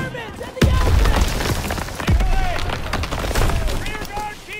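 Gunfire crackles in a Call of Duty WW2 campaign battle against German troops, with heavy booming impacts and rapid shots over continuous combat noise while soldiers shout.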